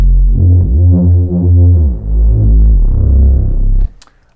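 A loud Reese bass synth runs through a UAD Moog low pass filter, its thick, detuned low notes shifting in a pulsing riff, then cutting off abruptly near the end.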